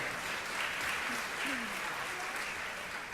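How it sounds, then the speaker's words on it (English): An audience at a fan convention auction claps after a winning bid, a steady, even wash of applause lasting the whole stretch at moderate loudness. "Round of applause there."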